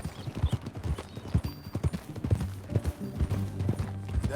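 A horse's hooves clip-clop in a quick, steady riding rhythm in the video game Red Dead Redemption 2. The hoofbeats are close and clear, with a faint snort or whinny among them.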